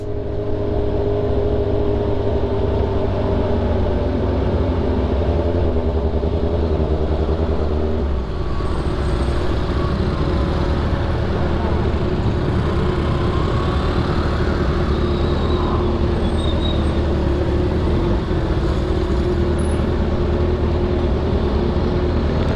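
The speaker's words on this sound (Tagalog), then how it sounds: "Grabe yung traffic mga boss." Dense road traffic with cars and motorcycles, heard from a Kawasaki Z1000 R rider stuck in it: a continuous loud rumble of idling and creeping engines with occasional revving, close by, with no talk.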